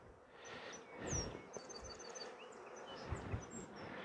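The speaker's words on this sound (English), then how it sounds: "new bees doing their job" Honeybees buzz steadily in an open hive of new bees with brood frames during a queen check, a continuous low drone with scattered higher insect whines and faint bird chirps in the background.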